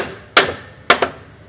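A hammer taps on a trailer axle part in three sharp, close strikes: one single hit, then a quick pair, each with a brief ringing decay.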